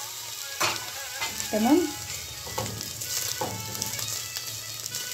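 Chopped onion sizzles in a hot pan as a garlic clove is added, a quiet continuous frying crackle broken by a few scrapes and clinks of stirring.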